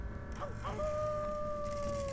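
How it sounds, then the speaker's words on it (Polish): Dogs in Assassin's Creed Brotherhood, a long rising then sliding howl that holds a clear sustained tone over a low background murmur. "Jeszcze psy."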